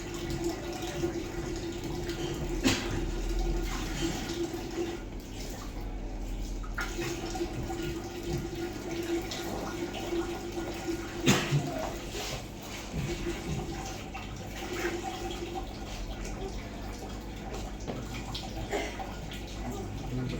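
Hydrogen-rich water runs steadily from a Kangen water machine in a continuous flowing wash, with faint background noise and occasional clunks throughout.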